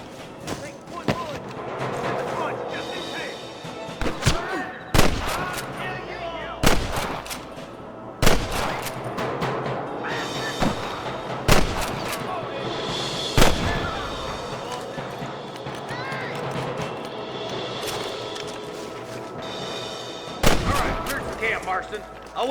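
Repeated gunshots from Red Dead Redemption gameplay, sharp loud cracks at irregular intervals over a continuous game soundscape, with voices talking between the shots.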